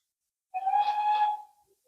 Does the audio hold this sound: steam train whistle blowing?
yes